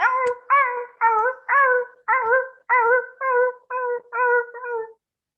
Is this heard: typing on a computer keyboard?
no